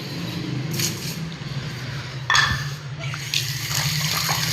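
Tap water runs steadily while a parrot's drinking water is changed, a continuous splashing flow with a brief louder gush partway through and no speech.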